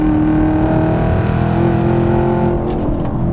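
Chevrolet Camaro ZL1 1LE with a 10-speed transmission accelerating hard, a loud continuous engine roar with a steady low rumble that holds strong throughout, heard from inside the car with no talk.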